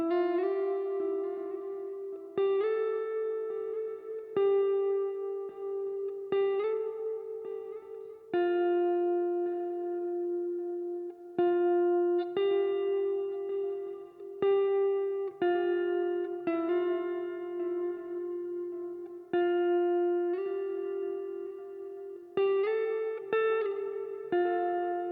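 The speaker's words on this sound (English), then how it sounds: "I also added a top line guitar melody" A clean, lo-fi guitar top-line melody plays alone in a sleepy lo-fi beat, single plucked notes ringing out in a slow, spacious phrase with soft echo trailing each note.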